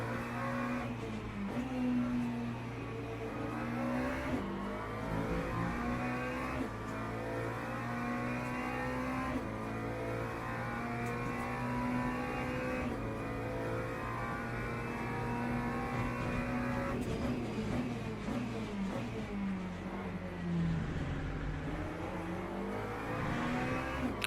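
Race cars at Sebring in Le Mans Ultimate, one engine revving steadily up and down through gear changes, loud and close, with a rising and falling drone that carries on throughout.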